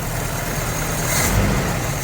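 A 1984 Toyota pickup truck engine idles steadily just after its first start, a continuous low rumble with a slight swell near the middle, close by and with no talking.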